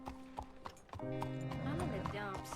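A horse in Red Dead Redemption 2 clip-clops in a quick run of hoofbeats, then lets out a loud, drawn-out neigh close by, with a voice speaking briefly near the start.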